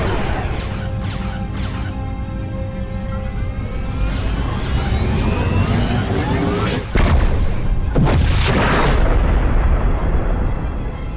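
Sci-fi photon torpedo launch and explosion from a starship in a Star Trek tabletop game session: a sustained rumbling barrage with rising whooshes, then a heavy boom around the middle followed by a loud crashing blast.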